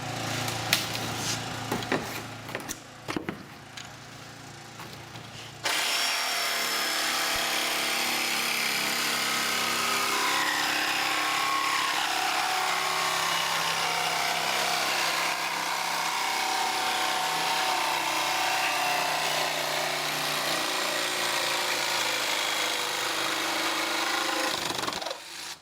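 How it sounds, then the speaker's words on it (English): A jigsaw fitted with a diamond or carbide grit blade cuts through an aircraft engine cowling on a Viking kit plane, giving a steady, loud grinding rasp that runs continuously after a short rougher start. "Now with the jigsaw, what you do is you go and buy a diamond or a carbide dust coated blade, not one with teeth."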